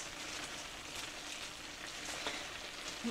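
Ground beef and pechay leaves sizzle and fry steadily in a pan as they are stirred, a constant close crackle with faint scraping and no voices.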